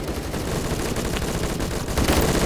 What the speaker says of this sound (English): I just heard a lot of gunshots and he still didn't kill me